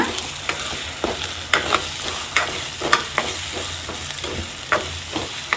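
Egg puri usli stirred and frying in a pan: steady sizzling underneath a regular series of sharp scraping stirs, close and moderately loud, with no talking.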